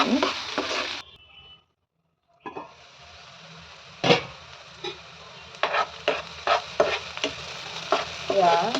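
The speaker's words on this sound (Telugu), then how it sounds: "మధ్య మధ్యలో ఇలా కలుపుతూ ఉండాలి లేదంటే అడుగు అంటిపోయింది మాడిపోతాయి ముక్కలు కింద" Egg pieces frying in a pan for egg podi, stirred with a spoon in repeated scraping strokes over a steady sizzle, with a short quiet gap early on and no talking.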